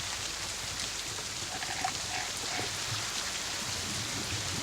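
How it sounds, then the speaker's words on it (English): Steady rain pours down, a dense continuous hiss of drops on surfaces with no pauses or voices. "It's still raining."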